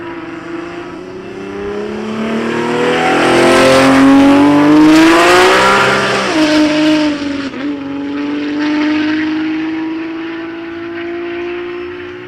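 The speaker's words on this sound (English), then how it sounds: "We're getting a solo pass from the Supra, driven by Guvner in the left-hand lane." A Toyota Supra drag car makes a solo pass down the strip, its engine roaring loud and rising in pitch as it accelerates, peaking mid-run, then dropping away and fading as it moves into the distance.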